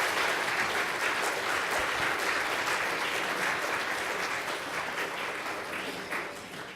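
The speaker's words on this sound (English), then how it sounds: "let's give him another round of applause." An auditorium audience at a development forum's keynote session gives a sustained round of applause, dense and steady throughout before tapering slightly at the end, with no talk over it.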